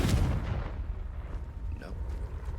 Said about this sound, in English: Do we just burn it? Confringo.